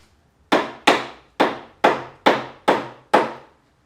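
Seven sharp, separate knocks of wooden pieces banged together while assembling a Percy Jackson prop sword, struck at a steady, slightly uneven rhythm, close and dry, each hit decaying quickly.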